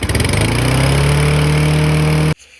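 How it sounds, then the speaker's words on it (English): A cheap used push lawnmower with a fault runs at a loud, steady high idle close by, then cuts off abruptly near the end. "the lawnmower is running at a high idle"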